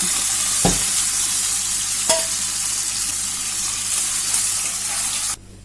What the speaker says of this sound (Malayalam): ഇനി നമുക്കിതിലേക്ക് തക്കാളി അരച്ചത് ഒഴിച്ചു കൊടുക്കാം